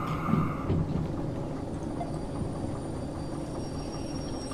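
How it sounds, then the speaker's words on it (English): A train in the game Derail Valley rumbles and grinds as it slows to a stop, a steady low rail roar with faint creaks and a short knock at the end, with no talk. "And stop the train."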